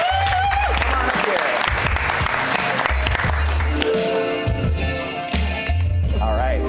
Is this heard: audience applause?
yes